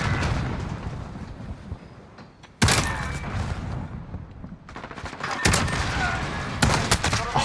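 Bursts of MK2 Carbine gunfire in a first-person shooter game, loud broadband cracks in several clusters, the heaviest strings coming in the second half over a continuous game background.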